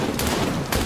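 Gunfire from the World War I horror game Amnesia: The Bunker, a couple of loud close shots in under a second with a dense, booming burst, no voices.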